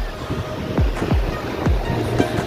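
Sea waves break on Puri beach near moored fishing boats, each surge rising and washing back in a steady, close rhythm, with light wind over the shore and no voices.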